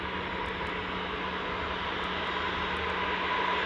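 An easyJet airliner at Newcastle airport gives a steady, even engine roar that holds at one level for the whole stretch, with a faint hum underneath and no voices.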